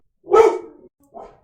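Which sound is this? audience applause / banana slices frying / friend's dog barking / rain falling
friend's dog barking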